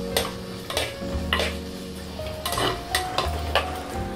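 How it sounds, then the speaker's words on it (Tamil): Ingredients for kollu (horse gram) rice sizzle in a pan while a spoon stirs them. The spoon scrapes and clatters against the pan in irregular strokes over a constant frying hiss. "கொஞ்சம் பாதி வதங்கட்டும்"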